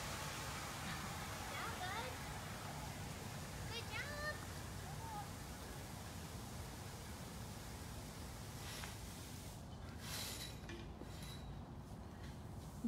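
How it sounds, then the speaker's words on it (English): Water filling bowls in an animal enclosure for an old African serval, heard as a steady, faint rushing wash throughout with a few light clinks, and a voice talking partway through. "All that noise you hear is them filling up his water bowls."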